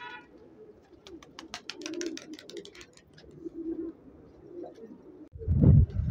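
Pigeons outdoors in strong wind, with soft repeated coos and chirpy calls scattered across the clip, faint and mid-distance, followed by a loud gust or rumble near the end.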